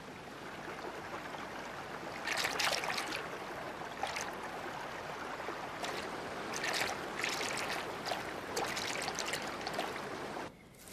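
River water flows steadily in the Drakensberg Mountains of South Africa, a continuous rushing wash with brighter splashing surges coming and going, close and moderately loud throughout.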